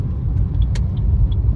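A car travels onto the NH44 highway in India early in the morning, with a steady low road rumble and engine drone throughout. Faint higher ticks and whooshes sit on top.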